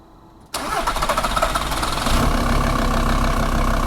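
A VW T4 bus with a 2.5 TDI diesel engine, fuel lines recently refitted, cranks and fires after a short silence, then settles into a loud, close, rough diesel idle that builds slightly in level.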